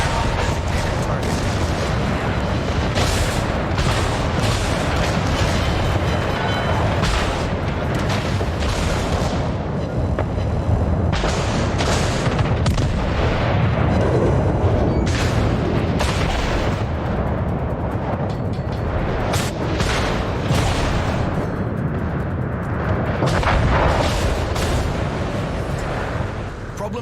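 Naval artillery booms repeatedly during a World of Warships battle, heavy gunfire blasts and explosions landing in irregular bursts over a constant loud rumble of sea combat, with a voice speaking at points.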